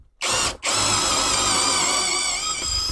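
An Eltos 20V brushless cordless impact driver running at first speed, driving screws. It starts with a brief whir, pauses a moment, then holds a loud, steady, high motor whine close by.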